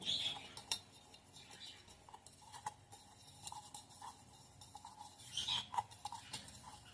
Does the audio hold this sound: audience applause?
no